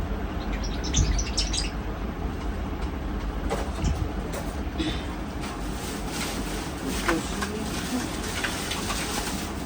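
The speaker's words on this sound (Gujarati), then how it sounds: "એના પછી ચૂચુ વાળા પોપટ." A squeaky toy parrot chirps in several short, bright squeaks scattered over a faint background hiss.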